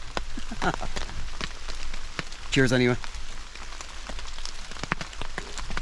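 Steady rain falls through woodland during a yellow rain warning, a continuous patter of drops on leaves and ground with a brief voice speaking partway through.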